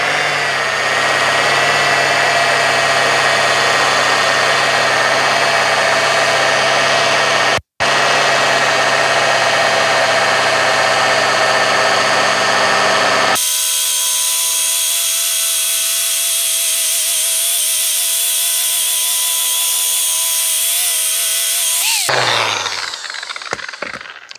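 An electric power polisher running at moderate speed on fresh, still-soft lacquer to remove runs, with a loud steady whine and hum, a brief cut-out near the start, a shift in tone midway and a spin-down at the end.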